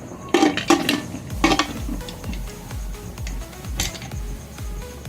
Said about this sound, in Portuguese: Nós vamos tampar a panela de pressão.